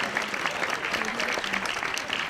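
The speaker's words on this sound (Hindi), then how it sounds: "एक बार आपकी तालियों की मोहर लग जाए" Audience at a Hindi kavi sammelan poetry recital claps steadily in a dense, even wash of applause that holds at moderate loudness throughout.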